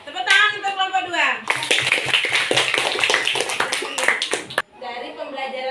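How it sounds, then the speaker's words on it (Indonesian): A classroom of students bursts into a loud, dense round of clapping for a student presentation group, starting after a brief spoken line and stopping abruptly before talk resumes. "tepuk tangan untuk kelompok 2"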